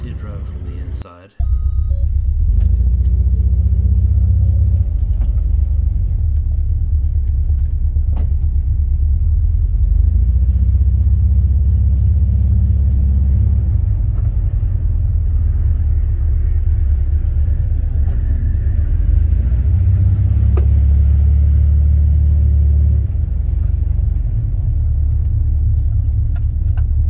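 A 1991 Volkswagen Vanagon Carat driving along, heard from inside the cabin as a loud, steady low engine and road rumble that holds throughout, with a brief break near the start.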